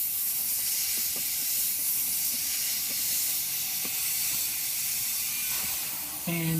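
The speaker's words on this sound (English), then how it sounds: "you can do some close range detailed spraying here" Steady, loud hiss of an airbrush spraying paint at 10 psi from a Hobbiworkz CMP20T compressor, with faint clicks underneath and a brief tonal squeak near the end.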